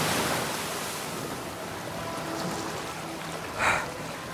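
Floodwater rushes through a tunnel in a broad, steady roar, with a brief louder surge near the end and no voices.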